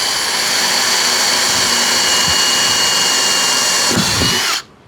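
A power drill whines continuously at high speed, loud and close, while pre-drilling holes in guttering for a jigsaw blade, with a couple of faint knocks near the end before the motor cuts off abruptly.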